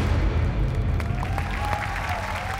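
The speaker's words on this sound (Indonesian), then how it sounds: "sekali lagi tepukan untuk Syed dan Anas" A studio audience on a game show applauds, a steady, close wash of clapping that holds from start to finish.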